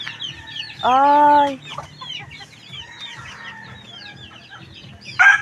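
Chickens on a small farm clucking and murmuring steadily close by, with one loud drawn-out squawk near the start and a sharper cry at the end, while a person briefly calls out.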